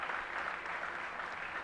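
Audience clapping at an awards-style gathering, heard as a soft, even wash of many hands that carries on without a break but stays quiet and somewhat distant.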